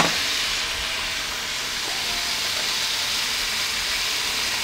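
Steady, loud hiss of steam rising from salmon being poached, a continuous broadband rush that holds evenly throughout with no pauses or voices.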